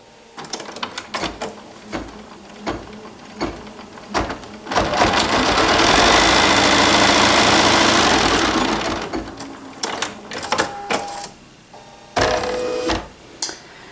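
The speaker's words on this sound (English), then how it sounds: "Start your machine and it's going to tack down the triangles." A sewing machine tacks down fabric triangles on a quilt block, starting with short bursts of stitching, then running at a steady fast whir for several seconds before slowing to brief stops and starts.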